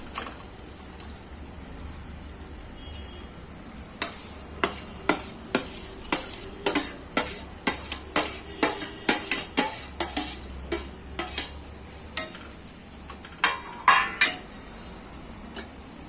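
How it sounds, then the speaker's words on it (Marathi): Potatoes tossed into softened onions for Udupi-style masala dosa filling, with a quiet first few seconds, then a long run of sharp spoon-on-pan scrapes and clinks in steady rhythm over a faint sizzle. "आता कांदा आपला बऱ्यापैकी आज शिजलाय, तर आता आपण बटाटे घालायचे याच्यामध्ये."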